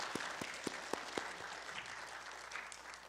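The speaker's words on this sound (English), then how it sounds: "Can we give her another round of applause?" Audience applause for a young piano student at a studio holiday concert, a steady wash of clapping from a crowd lasting the whole moment, moderately loud with no speech over it.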